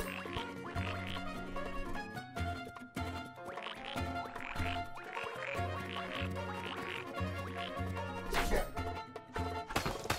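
Croaking frogs in the game Wonder Boy: The Dragon's Trap, rhythmic quacky croaks repeating over a busy musical soundtrack, steady and moderately loud throughout.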